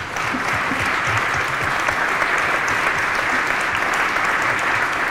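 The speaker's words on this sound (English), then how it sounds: "Please give the candidates a round of applause." An audience at a candidate forum gives the candidates a round of applause, a dense and loud continuous clapping that stays even from start to finish.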